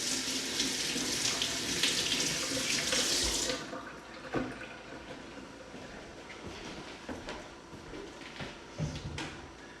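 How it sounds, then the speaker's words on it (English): Water from a kitchen tap runs steadily and fairly close for about three and a half seconds while hands are washed, then shuts off, leaving quiet kitchen handling sounds and a few soft knocks. "Let me wash my hands real quick."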